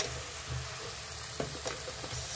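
Ground tomato paste fries in a pan for a village-style water chestnut curry, a soft steady sizzle with a few stirring scrapes.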